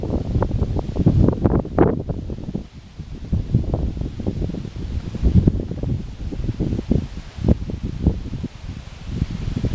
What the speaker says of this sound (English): Gotta wait for this wind to die down.